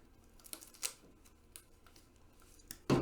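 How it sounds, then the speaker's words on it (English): Scissors snip through tape wrapped around the guard of a broomstick sword, a few short, faint crinkly cuts and tearing sounds close by, ending in a louder handling thump. "Take your scissors, cut."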